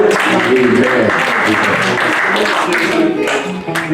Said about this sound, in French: Nous allons voir applaudissements pour vous